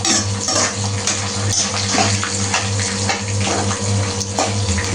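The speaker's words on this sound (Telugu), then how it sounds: "వెల్లిపాయలు వేగనివ్వండి." Crushed unpeeled garlic frying in a pan, a continuous bubbling hiss with a low steady hum underneath, fairly close and without speech.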